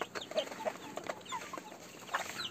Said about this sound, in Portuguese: É uma festa colocar ração pra essas galinhas